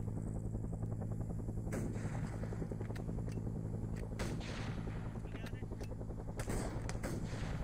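Machine gun fire in the military shooter Arma 3, heard from a bunker position: irregular bursts and sharp cracks over a steady rumbling battlefield drone, fairly distant and subdued.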